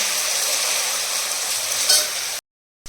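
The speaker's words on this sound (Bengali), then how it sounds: "তো দেখো ঝিরিঝিরি আলু ভাজা কমপ্লিট রং চলে এসছে" Thin slices of potato fry in a pan, a loud close hiss of oil that runs steadily before cutting off abruptly near the end.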